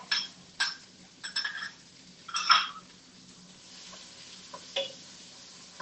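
Soft sizzling of onion and celery in a pan with scattered scraping and stirring clinks, close and fairly quiet, no voices.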